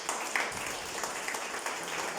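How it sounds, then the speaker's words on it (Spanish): A church congregation breaks into applause during a sermon, a short, dense burst of clapping from many people that carries steadily without any voices. "¿Puedes dar una ofrenda de palmas al Señor?"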